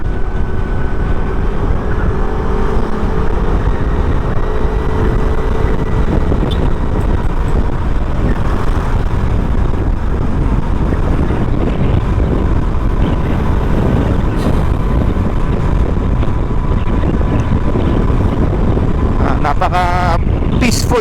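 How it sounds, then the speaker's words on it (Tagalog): An Aprilia SR GT200 scooter with a quiet exhaust rides along the road, a steady engine and wind rumble that stays constant throughout, with a rider talking over it. "Napaka peaceful talaga magmotor pag hindi maingay ang tambutso."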